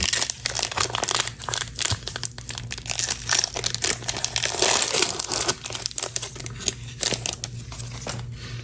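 2025 Donruss baseball card fat packs being torn open, a dense, loud stream of close crinkling and crumpling wrapper foil with rapid tearing rustles throughout and no talking.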